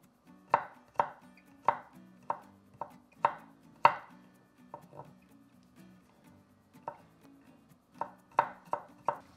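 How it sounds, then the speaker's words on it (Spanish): Two garlic cloves being chopped finely with a knife on a board while cooking pork ribs in orange sauce: a close, crisp run of quick chopping strikes, a short pause, then another burst of steady chops. "estos los vamos a picar también así finitos"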